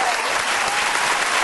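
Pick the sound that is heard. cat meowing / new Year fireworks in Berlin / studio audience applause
studio audience applause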